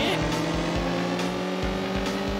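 Loud, droning motorcycle engine from the Road Rash video game on the 3DO, a constant buzzing hum with rhythmic low thumps underneath, close and dominant throughout.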